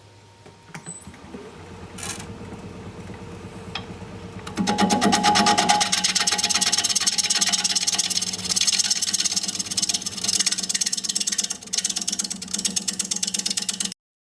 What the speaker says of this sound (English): We're going to be turning at just over 500 RPM.